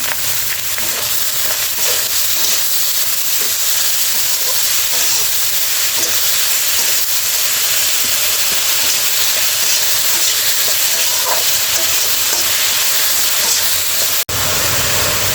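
Ingredients fry in a pan with ginger-cumin paste, green chili and salt for a gourd and shrimp dish, producing a loud, continuous hissing sizzle with faint stirring knocks, close up and uninterrupted by talk.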